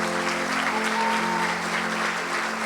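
A church congregation applauding loudly and steadily for the whole stretch, a dense wash of many hands clapping at once in a large room, with no talk.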